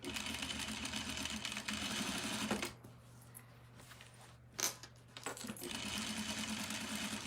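A sewing machine stitches down a double-folded skirt hem in steady, close runs, pausing briefly mid-way with a faint click before the stitching resumes.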